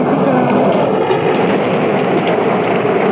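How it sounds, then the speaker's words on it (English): Thunder in a radio drama storm scene at sea near Mystic, a loud sustained rumble filling the whole stretch without a break, with no voices over it. "Did you hear that? There's thunder."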